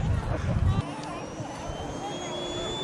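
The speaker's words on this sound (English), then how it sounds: "The engine spools up on propane, and then automatically switches over to kerosene." A small model jet turbine engine, started on propane before switching to kerosene, whines and climbs steadily in pitch, a thin high tone over a rumbling roar that drops away after the first second.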